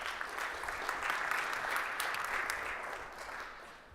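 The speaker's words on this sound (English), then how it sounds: "Give these gentlemen a round of applause." Steady audience applause at a business talk on storytelling in sales, a dense wash of many hands clapping for about four seconds that tapers slightly at the end.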